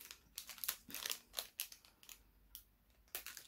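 Dumbo enamel pin box being opened by hand, with a run of close, crisp crinkling, tearing and scraping bursts of packaging, fairly quiet, with no talking.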